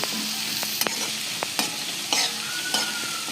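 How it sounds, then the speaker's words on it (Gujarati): Chopped green onions sauté in a hot pan for a quick sabji, with a steady sizzle broken by a few sharp scrapes of the stirring spoon, close and fairly loud, no voices. "લીલી ડુંગળી નાખી ને આપણે એને થોડું શેકી લેશું"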